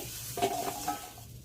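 Quiet sizzle of vegetables frying, with a couple of brief scraping stirs of a spatula in the pan.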